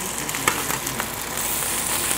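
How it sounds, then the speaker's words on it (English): Sous vide steak seared in a hot pan: a continuous hissing sizzle at steady volume with a few faint ticks, heard up close and alone. "And now we're searing the second side."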